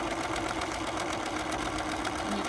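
Sewing machine stitching the crotch seam of pants, a rapid steady mechanical chatter running without pause, close and alone with no voices.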